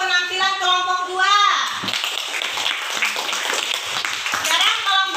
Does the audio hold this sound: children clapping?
yes